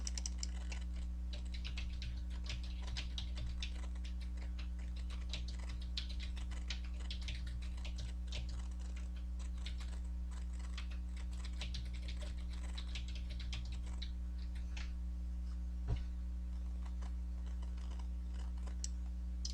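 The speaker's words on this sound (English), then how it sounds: "in here I will type my poem" Steady typing of a poem on a computer keyboard, quick irregular clicks continuing throughout over a constant low electrical hum, with no talking.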